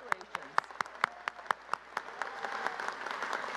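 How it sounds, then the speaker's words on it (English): Audience applause at an engineering master's hooding ceremony, starting as a handful of distinct, separate claps and filling into denser steady clapping toward the end, heard from some distance in a large hall. "All right, one more round of applause."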